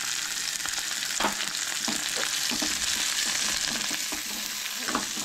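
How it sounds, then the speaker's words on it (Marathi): Chili, onion, garlic and ginger fry in a pan for a Goan coconut egg curry, giving a steady close sizzle with occasional stirring scrapes and no talking. "सो हे बरें न्हय भाजून घेवंक जाय, हलकेशे बरें तळसून घेवंक जाय।"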